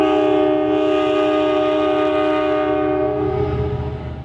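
An Amtrak 229 locomotive horn sounds one loud, close, sustained chord for about four seconds before tailing off at the end.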